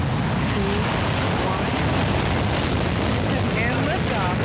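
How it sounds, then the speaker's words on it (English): Rumbling roar of a rocket liftoff as the Galileo spacecraft launches, steady broadband thunder with wind-like noise throughout, while a voice speaks over it. "We have a go for main engine start"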